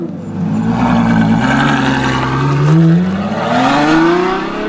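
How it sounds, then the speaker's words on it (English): A Ferrari V12 four-seater grand tourer revs loudly nearby, its engine note climbing and dipping through smooth rising pitch sweeps as it accelerates, with no talk. "It's a 4-seater V12 Ferrari Grand Tourer."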